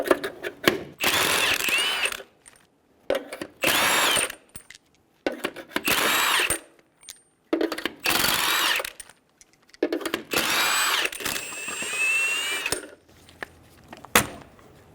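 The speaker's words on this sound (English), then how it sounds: "Using a 21mm socket, remove the 6 lug nuts." A power tool with a 21mm socket spins lug nuts off a 2005-2015 Toyota Tacoma front wheel: six loud, close bursts of whirring and ratcheting, separated by short pauses and metallic clinks, with no talk.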